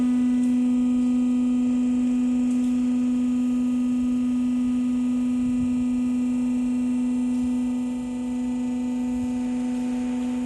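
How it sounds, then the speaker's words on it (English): Hydraulic station driving the top section of a 30L explosion-proof vacuum planetary mixer upward, a steady loud electric hum with a pure tonal whine that holds constant and dips slightly near the end. "Driven by the hydraulic station, the whole top part raised."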